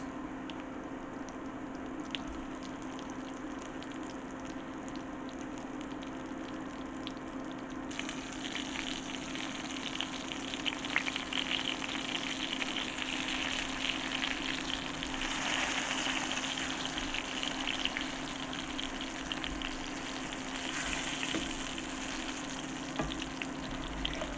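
Breaded oyster mushroom schnitzel pieces frying in hot oil in a pan, a steady close crackling sizzle that swells noticeably louder as more pieces go in, continuing without talk.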